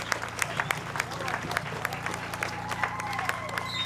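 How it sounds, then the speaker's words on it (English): A crowd at an outdoor celebration in Namibia claps hands in a dense, continuous patter of applause, with voices and background speech mixed in beneath the clapping. "Let's all stand up and clap our hands to Moses Garwe and Samora Machel"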